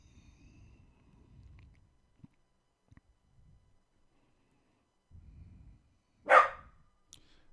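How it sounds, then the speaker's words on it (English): A pet dog gives a single sharp, loud bark close by, standing out from a quiet room with only faint low rumbles and soft scattered noises before it. "Just trying to bark at everything."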